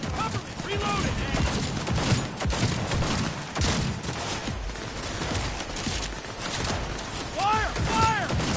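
Dense, rapid gunfire rattles almost continuously through a firefight in the video game Cyberpunk 2077, loud and close, with voices shouting over the shots.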